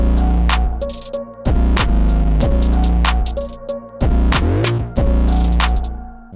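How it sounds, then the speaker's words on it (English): A track run through the Arturia Dist COLDFIRE distortion plugin at its default setting gives loud, harsh, saturated tones in repeated bursts with short gaps, thick with gritty low end and buzzing upper harmonics. "let's turn on the distortion right now."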